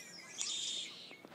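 Starlings in a tree mimicking red-winged blackbird calls: a faint, distant buzzy trill followed by a couple of short chirps, with no other sound nearby.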